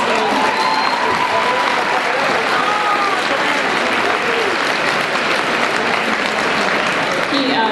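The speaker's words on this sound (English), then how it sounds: "So give yourselves a round of applause." Loud, sustained applause from a large crowd at a college commencement ceremony, dense clapping filling the whole stretch with scattered cheers mixed in.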